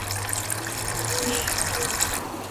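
Screen wash fluid poured through a funnel into a car's washer reservoir during a service, a steady close gurgling liquid flow with a faint low hum underneath.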